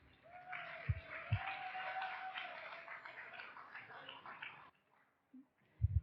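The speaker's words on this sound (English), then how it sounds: "So one more round of applause for them." Graduation crowd at a sports club's high school and college ceremony claps for the graduates, a moderate burst of applause lasting about four seconds that then cuts off, followed by a few faint knocks and handling noises.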